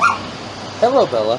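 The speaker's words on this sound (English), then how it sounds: "That's my dog" A pet dog gives short whimpering yips and soft bow-wow sounds, close and brief, with a person greeting it in between.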